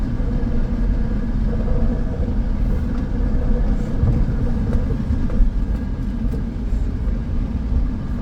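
A 2012 Honda Pilot drives along the road, heard as a continuous low engine and road rumble with tire noise from inside the cabin, steady throughout with no talking.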